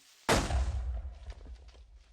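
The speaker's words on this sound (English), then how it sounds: "We're going to use the shield to parry off the explosion." A Minecraft creeper explodes against a raised shield in a block-building video game: one sudden loud blast that rolls into a low, rumbling decay with faint crackling debris afterward.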